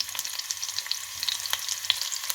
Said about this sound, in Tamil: இப்போ வெட்டி வச்சிருக்கிற உள்ளியை போட்டு வதக்கி எடுப்பேன்